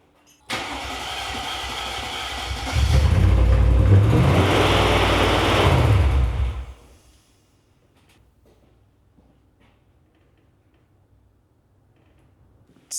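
Mercedes car engine cranking and then catching with a loud, rough roar and an odd noise for several seconds before cutting off abruptly, followed by quiet.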